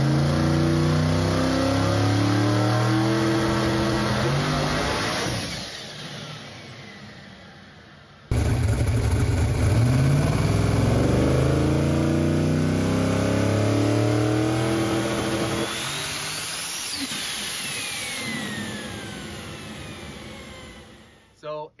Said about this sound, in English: But it did at least come up on the rev limiter